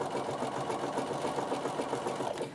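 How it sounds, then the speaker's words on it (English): Sewing machine doing freehand decorative stitching on fabric: a close, steady rapid needle chatter over motor whir, continuous and alone for the whole stretch. "sometimes I just do it freehand like this and stitch wherever I like"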